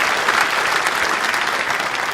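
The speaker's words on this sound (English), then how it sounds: "Another round of applause." Keynote audience at a tech conference applauding, a dense steady wash of clapping from a large crowd in a hall, loud and continuous without a break.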